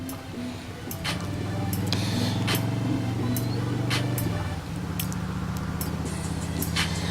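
A motorcycle cruises down the road with a steady engine drone and rushing wind noise, heard close and continuous with light ticking sounds on top.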